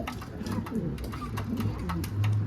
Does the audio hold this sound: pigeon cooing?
yes